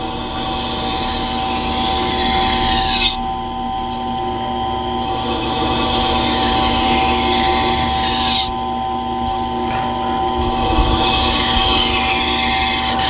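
Kitchen knife drawn across the grinding wheel of a Tormek T-2 Pro sharpening system, a steady abrasive rasp over a continuous motor hum, broken by two short pauses between passes.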